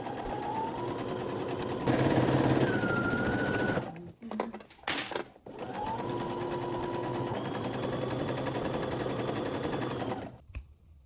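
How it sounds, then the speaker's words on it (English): A sewing machine runs in long steady bursts while stitching around the lined armholes of a halter-neck tie dress at a 1 cm seam allowance, pausing briefly in the middle with a few clicks before resuming its close, even whirr. "We're gonna sew around the armholes using a 1 cm seam allowance"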